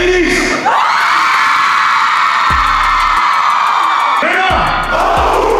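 Concert crowd in Münster during the Live Is Pain tour 2022, a loud sustained roar of cheering and whooping with shouted voices, punctuated by heavy bass-drum thumps from the stage.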